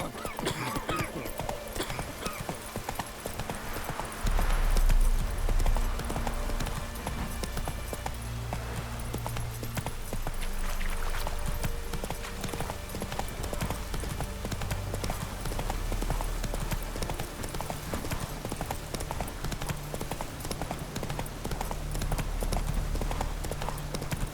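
Horse hooves clip-clopping at a steady galloping rhythm in The Witcher 3 video game, loud and continuous, with occasional whinnies and brief game music or effects underneath.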